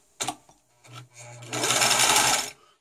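A Singer 756 Touch & Sew sewing machine starts with a couple of clicks and a brief whir, then runs for about a second in a fast, steady mechanical chatter before stopping, close and alone.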